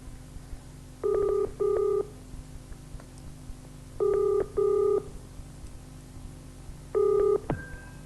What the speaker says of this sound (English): Let me get Mr. Bainbridge of Lipson and Browning on the phone